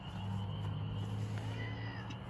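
A cat meows steadily and fairly close in an outdoor garden, a single drawn-out call carried over low background hum with no talk.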